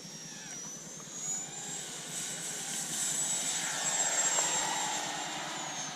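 Freewing F-22 Raptor 90mm electric ducted-fan RC jet taking off, a loud steady high-pitched whine that builds and holds throughout, with broad rushing airflow noise beneath and no talking.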